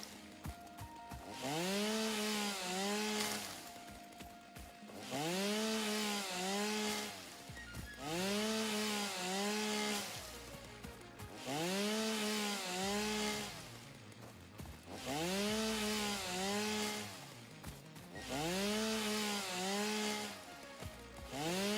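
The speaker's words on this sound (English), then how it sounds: "This chainsaw actually has quite the large area of effect." A video game chainsaw in a factory-building game revs in repeated bursts, each a buzzing rising-and-falling motor whine with clear harmonic tones, roughly every two and a half seconds with short quiet gaps between.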